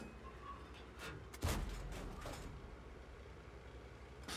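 A Jagdpanzer IV tank destroyer firing its cannon in World of Tanks: one sharp, heavy boom stands out above a low engine rumble, with a few fainter distant shots around it and no talking.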